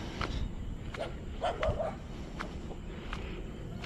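Dogs barking at a durian orchard in Kemensah, Malaysia, a few short barks and yips heard at a distance over steady outdoor background noise, with footsteps.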